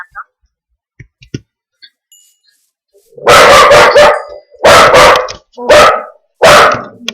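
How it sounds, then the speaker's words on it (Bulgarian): A dog barks loudly and close by in four harsh bursts after a few soft clicks in near silence. "Съжалявам хора за това, но това е кучето ми."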